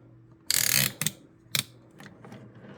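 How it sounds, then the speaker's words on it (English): Ratcheted bicep joint on a chrome GigaPower Superator toy robot being rotated: a loud burst of rapid plastic clicks, then several shorter separate ratchet clicks fading to softer ticks, close up and alone. "There is a bicep rotation that is also ratcheted"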